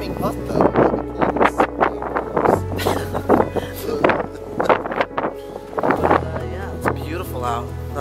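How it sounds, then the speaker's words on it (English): Strong, cold wind buffets a boat out on open water, a steady low roar and gusty microphone rumble running beneath people talking throughout. "it's very, very windy and very cold"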